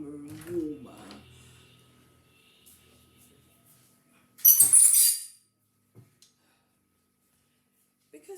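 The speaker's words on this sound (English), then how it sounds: "let me just open this door up a little bit because it's getting warmer and warmer" A room door is pushed open a little: after near silence comes one short scraping rush lasting under a second, followed by a couple of faint clicks.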